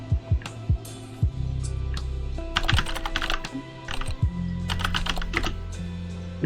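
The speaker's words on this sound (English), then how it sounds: "Do you not like the keyboard noises?" Rapid typing on a computer keyboard, close and crisp, with bursts of quick key clicks broken by short pauses and a few heavier thumps, alone without talk.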